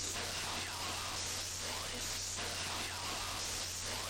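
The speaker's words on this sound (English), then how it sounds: "White noise is audible now, and perhaps some other subliminal sounds." Constant white noise static hisses from a cellar recording in the Dark Fall: The Journal video game, a steady loud wash with a faint low hum and slight pulsing swells.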